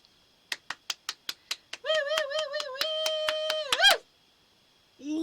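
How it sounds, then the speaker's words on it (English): Two talk-show hosts clap their hands seven times, sharp and close, then a sustained electronic jingle tone rings out and stops. "Should we clap it in?"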